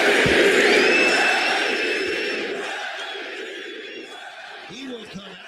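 A crowd at an NBA game cheers and roars loudly, the broad roar fading gradually over several seconds, with a voice heard faintly near the end.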